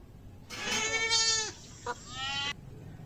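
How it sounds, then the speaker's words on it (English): A goat bleating twice: a long wavering cry followed after a short pause by a second shorter bleat, close and clear with little background noise. "goat,"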